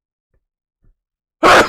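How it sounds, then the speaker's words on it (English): A single sharp sneeze bursts out loudly at the end after near silence and a faint breath. "I gotta sneeze."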